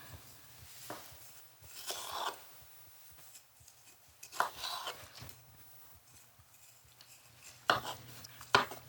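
A knife slices through a red wine poached pear resting on a plate, giving a few soft, close cuts and scrapes against the plate that are separated by quiet pauses, with no talking.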